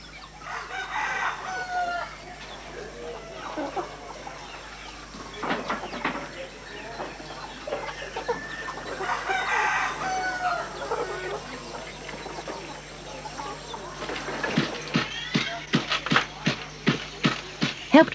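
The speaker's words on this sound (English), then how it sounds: "feeds the 40 chickens to be sacrificed." Chickens kept for a sacrificial rice ritual in a Bidayuh village, clucking and crowing throughout with busy background chatter, ending in a run of sharp, rhythmic close clucks.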